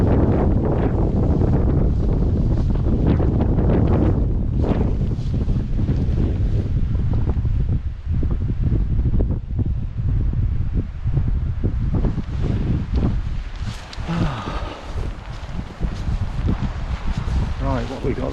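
Strong wind blows outdoors on open hills near the coast, buffeting the microphone with a loud, continuous roar and gusty rumble throughout.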